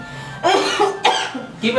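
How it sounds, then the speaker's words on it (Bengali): A person coughs three times in quick succession, loud and close, each a harsh burst. "এই কাশতেছিস কে?"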